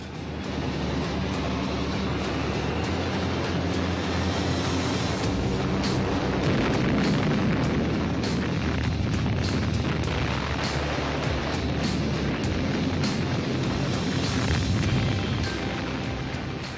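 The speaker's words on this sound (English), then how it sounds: "The bombing raids dropped 400 tons of high explosive." Heavy sustained rumble of a WWII bombing raid on the Norsk Hydro plant in Norway, with dense overlapping explosions and a continuous loud roar filling the whole stretch, no voices.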